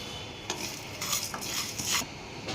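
Cumin, coriander and fenugreek seeds are dry-fried in a hot pan for chicken pickle, with a spoon stirring and scraping steadily against the metal over a soft, continuous sizzle and no talking.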